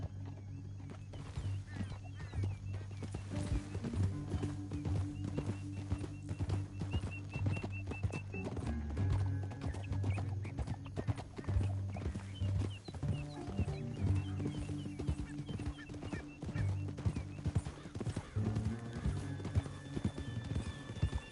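Rapid hoofbeats of galloping horses in Red Dead Redemption II pound continuously over a low rumble, with an occasional whinny, without talk.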